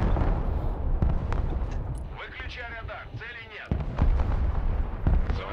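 A full load of FAB-250 bombs strikes the ground in the video game Broken Arrow, setting off a rapid string of heavy, booming detonations and crackling blasts. Excited player voices talk over the barrage.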